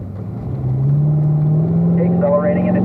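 A car with an automatic transmission accelerates on a race track, its engine drone rising steadily in pitch, loud and close, under a voice talking over it.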